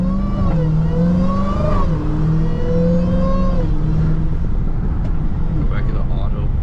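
A Dodge Hellcat Charger engine pulls hard on a wet, rainy road from inside the cabin, its deep droning tone climbing in pitch, dropping at a shift and rising again, loud and continuous.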